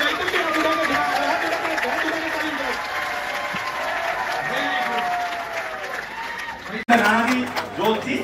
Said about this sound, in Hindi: जोरदार तालियों से भाई साहब का समर्थन करो भाई